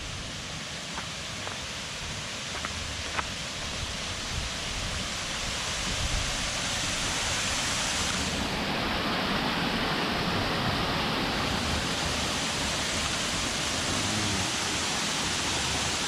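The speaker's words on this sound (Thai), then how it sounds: "ได้ยินเสียงน้ำไหลมา" A rain-season waterfall pours down the cliff at Pha Mo I Daeng near Khao Phra Wihan, a steady, dense roar of falling water that stays loud and unbroken throughout with no voices.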